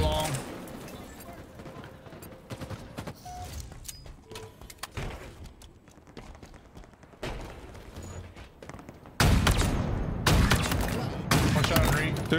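Gunfire in a Halo Infinite ranked Capture the Flag match on the Argyle map, with sniper rifle shots among sharp cracks scattered through the clip. A louder cluster of shots comes near the end amid busy game noise.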